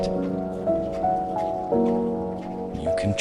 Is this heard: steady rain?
yes